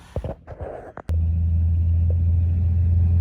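A Jeep XJ on its first test drive after a Heim joint crossover steering install, a steady low engine rumble starting abruptly after a second of muffled handling noise, close and constant.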